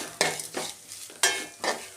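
Grated coconut, shallots, dried chili and urad dal fry in a pan, sizzling softly as a spoon scrapes through in four distinct stirring strokes, close and without talk.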